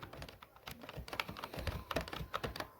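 Rapid typing on a computer keyboard while entering an Excel formula, a dense irregular patter of close clicky keystrokes.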